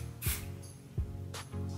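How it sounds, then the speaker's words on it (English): Bedroom Hair Flexible Texturizing Hairspray sprayed underneath the hair in two short, close, airy hisses, each lasting a fraction of a second, over a low steady background hum. "Bedroom Hair Flexible Texturizing Hairspray. And I spray it underneath."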